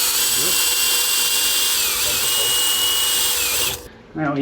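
A power drill runs continuously at high speed, boring a hole through a sailboat's hull during boat building, loud and close with a steady whine before stopping abruptly near the end as a voice begins.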